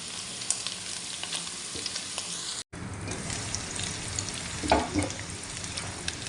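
Hotdog and turkey sizzle in a hot frying pan with a steady crackling fry, broken by a brief cut and a few louder spatters and stirring clatters midway.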